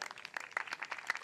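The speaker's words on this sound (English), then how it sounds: "Let's hear a round of applause for" Brief burst of audience applause at a community talent show in St. Louis Park, a quick patter of many hands clapping at moderate volume.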